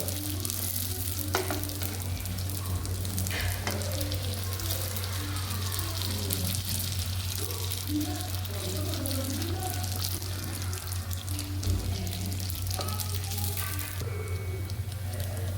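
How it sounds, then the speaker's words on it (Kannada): Mangalore buns deep frying in hot oil, a steady close sizzle and bubbling running throughout with occasional soft scrapes and knocks, no voices. "ಗೋಲ್ಡನ್ ಬ್ರೌನ್ ಬರುವ ತನಕ ನೀವು ಫ್ರೈ ಮಾಡಿ"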